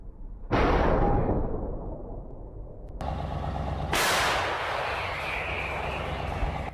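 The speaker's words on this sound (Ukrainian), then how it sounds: "Артилеристи посилають черговий вибуховий подарунок у вигляді осколково-фугасного снаряду" A booming shot from a Polish Krab self-propelled howitzer firing a high-explosive fragmentation shell, with a long rolling echo, then a second heavy blast, both loud and reverberating outdoors.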